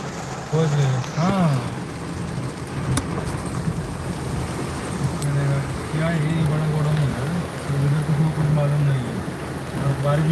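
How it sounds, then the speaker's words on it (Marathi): Heavy rain pours down in a steady, loud wash of noise, with someone talking over it throughout. "बघा जोरदार पाऊस चालू आहे बघा हे बघा"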